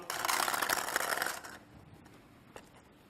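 Plastic draw balls for the UEFA Europa League group stage draw shuffled in a glass bowl, a dense rattling clatter for about a second and a half, then fading to near quiet with one small click.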